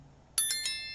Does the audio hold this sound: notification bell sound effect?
yes